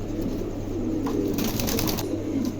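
A pair of white King pigeons coo softly nearby in steady, throaty rolling calls, with no one speaking.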